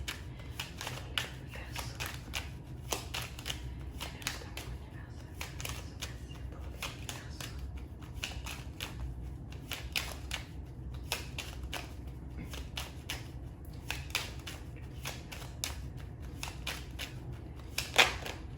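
Tarot cards being shuffled and drawn for an Aquarius summer reading, a steady run of soft, rapid papery riffles and flicks with a sharper snap near the end, close and fairly quiet, with no talk.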